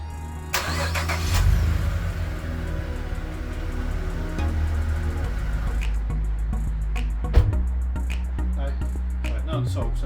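Vauxhall VXR car engine cranking and firing up, then settling into a steady idle with a low rumble, recorded close, with a few clicks and knocks near the end.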